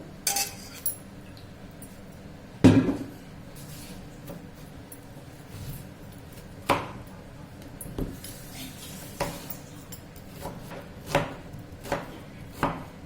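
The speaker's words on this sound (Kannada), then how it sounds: "ಈ ಥರ ಕಟ್ ಮಾಡಿಕೊಂಡು ನೀರಿಗೆ ಹಾಕ್ಕೋಬೇಕು." A knife chops raw plantain into pieces on a cutting board with sparse, crisp taps, about one every second or so, one louder knock among them. The sound is close and clear with no talk.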